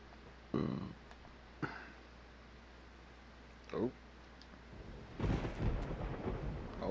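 Thunder rumbles in DayZ with a few sharp cracks and short rolls, then a longer, louder rumble near the end over a soft wash of rain.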